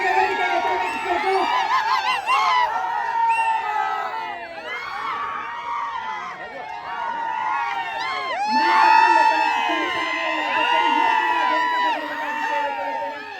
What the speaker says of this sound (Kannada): ಜೋರಾಗಿ ಚಪ್ಪಾಳೆ ಮೂಲಕ ಅವರಿಗೆ ವೇದಿಕೆಗೆ ಸ್ವಾಗತಿಸಬೇಕು.